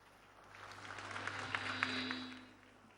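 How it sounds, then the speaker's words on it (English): Audience applause at an evening draws ceremony for an international jockeys' weekend in Mauritius, greeting a presenter; a soft patter of clapping swells to a modest peak midway, then tapers off, faint and somewhat distant. "Please give a round of applause for Fanny Salmon."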